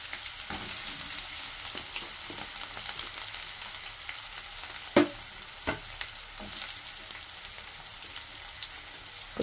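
Tempering seeds sizzle in a little hot oil for a cluster bean and grated coconut curry: a soft, continuous frying hiss with a few light pops and one sharper clink midway.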